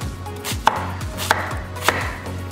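A knife chops an onion on a cutting board with three crisp, evenly spaced cuts, close and clear, with no talk.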